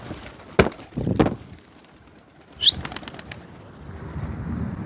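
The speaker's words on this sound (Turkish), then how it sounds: "Evet tembel kuşlarımızı bir uçurmayı deneyelim." A few quick bursts of wing flapping from pigeons being shooed into flight inside a coop, sharp flutters near the start and another brief flurry midway, followed by a quiet rustling background.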